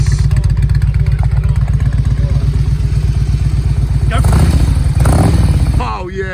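A latest-model Harley-Davidson V-twin idles with a loud, close, lumpy beat and is then revved hard twice, the engine roaring and settling back, while people talk nearby.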